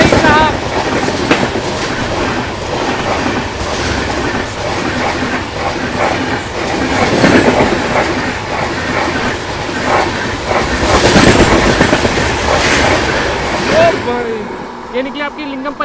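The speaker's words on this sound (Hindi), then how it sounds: "ये निकली आपकी लिंगमपल्ली इंटरसिटी एक्सप्रेस, हमारी अमृत भारत को एक्सप्रेस को ओवरटेक करके जा रही है भाई।" An Indian Railways Lingampalli Intercity Express passes alongside the Amrit Bharat Express while overtaking it, wheels clattering in a steady rhythmic clickety-clack with loud rolling rumble close by, swelling and easing, with a brief squeal near the end.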